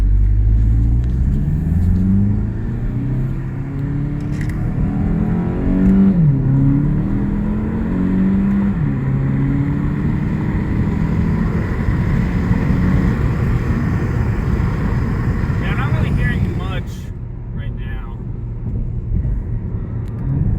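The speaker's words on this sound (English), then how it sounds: "But you can definitely hear the engine a lot more." A VW Mk7 GTI fitted with an S&B cold air intake revs loudly from inside the car, a deep rumbling engine note rising and falling through several throttle pulls and settling back to a steady hum.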